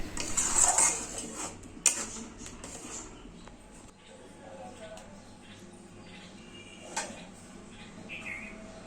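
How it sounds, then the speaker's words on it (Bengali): Rabri being mixed in a pan over a low flame, with light scraping and clinking of a spoon against metal and a soft background hum, fairly quiet and close. "এখন সবই একসাথে মিশিয়ে নিব।"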